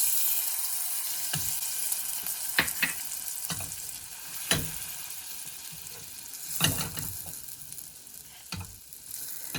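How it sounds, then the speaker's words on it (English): Butter melting in a hot pan ahead of scrambled eggs, a soft continuous sizzle with a few sharp clicks and scrapes of a utensil, close and fairly quiet, no speech. "we're just going to toss in our butter"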